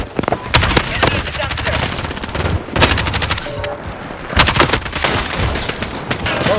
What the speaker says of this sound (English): Cluster strike is going.